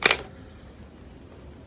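A Hard Candy Hydrating Primer Mist and Setting Spray gives one brief, sharp pump-spray hiss at the start, then goes quiet with faint room noise and no talking.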